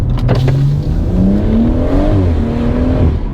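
A BMW M140 with an aftermarket exhaust revs hard and climbs through the gears with a deep, raspy exhaust note, loud and close, pitch rising steadily.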